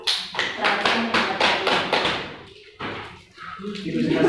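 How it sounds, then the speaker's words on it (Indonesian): A classroom group claps for the second team's presentation, a quick run of rhythmic, evenly spaced claps for about two seconds that then tails off into murmuring and room noise. "tepuk tangan dulu buat kelompok 2."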